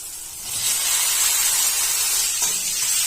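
Fried potatoes and pointed gourd tipped into a hot iron wok with spices, setting off a loud, steady hiss and sizzle that begins abruptly and carries on close up.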